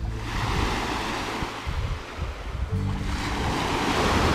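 Gentle waves lapping on a Spanish beach on a windless March day, the sea flat as a lake; a steady soft wash of surf close by with a low rumbling swell, no voices.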